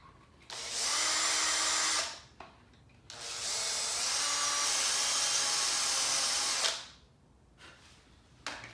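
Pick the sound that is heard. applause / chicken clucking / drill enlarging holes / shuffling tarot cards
drill enlarging holes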